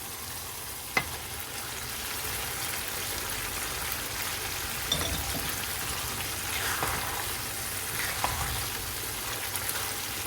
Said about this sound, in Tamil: இப்போ நம்ம எக் ஆட் பண்ணிக்கலாம்.